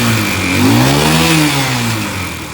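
A motorcycle engine fitted with a replacement CDI revs up and eases back at close range, a loud, smooth mid-pitched rise and fall with no one speaking.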